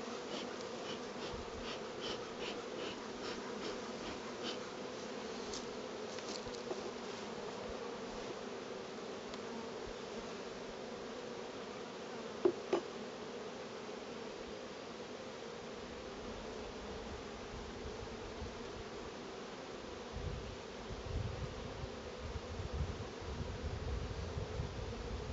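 Young honey bees on a hive frame being moved into a nucleus colony hum in a dense, steady drone close by, a continuous buzzing swarm that holds level throughout with occasional faint knocks.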